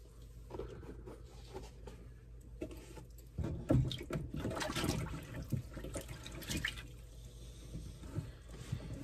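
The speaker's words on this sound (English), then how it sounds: "We're basically just soaking the shoe into the water," Water sloshing and trickling as a water-damaged Ferragamo shoe is soaked in a basin, soft splashes and drips close by and fairly quiet, with a brief louder splash partway through.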